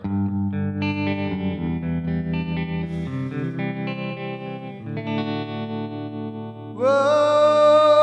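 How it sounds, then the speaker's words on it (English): Electric guitar played through a Headrush effects unit with a vintage plate reverb setting, sustained chords and single notes ringing with a lush tail, ending in a brighter, louder bent chord. "Vintage plate reverb."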